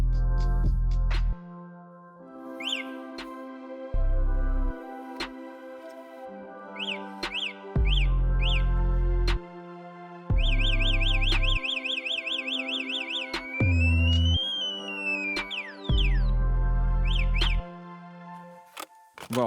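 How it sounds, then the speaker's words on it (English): An electric Citycoco trike's alarm cycles through loud electronic patterns: honking tones, warbling chirps and rising-falling wails in repeated bursts separated by brief pauses. "There is an alarm system that, by the way, works very neatly."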